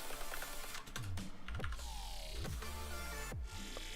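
Typing on a computer keyboard: a quiet, steady patter of key clicks with a few sharper strokes, heard alone in a quiet room without talk.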